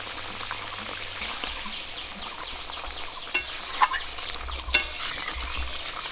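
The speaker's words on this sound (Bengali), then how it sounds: "মাছটা দিয়ে আবারও কিছুক্ষণ একটু জাল করে নেব।" Rohu fish frying in a pan of raw mustard oil gravy, a soft steady sizzle and bubbling with a few sharper spits and pops, close and fairly quiet with no voices.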